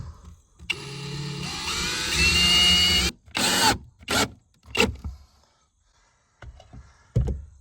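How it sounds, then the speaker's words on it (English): A cordless power screwdriver driving screws into wood, one long whining run followed by several short bursts with pauses between, loud and close. "I'll start a screw with 1 hand and then grab my screwdriver."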